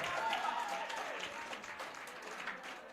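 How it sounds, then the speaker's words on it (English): A crowd at a party area council meeting applauds a young political speaker, faint, steady clapping at some distance with voices murmuring underneath. "Let us give her a round of applause."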